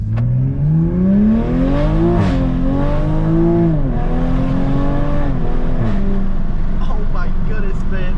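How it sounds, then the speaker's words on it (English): Toyota Supra MK5 with a Titan Motorsports catless downpipe launching hard with wheelspin, engine loud and close, revving up in rising sweeps through several gear changes. "We're gonna pull out and we're gonna punch it, and you're gonna watch it spin a whole lot."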